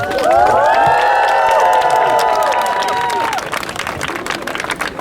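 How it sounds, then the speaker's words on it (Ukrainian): Outdoor crowd in Lviv applauding and cheering to greet the mayor of Mariupol at a gathering; loud sustained clapping and shouts with sung or called voices over it, thinning toward the end. "Давайте оплесками його привітаємо."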